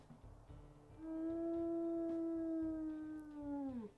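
A single long wolf howl from the video game WolfQuest rises clearly and holds steady for several seconds, then bends downward at the end, loud and close over a soft rhythmic background.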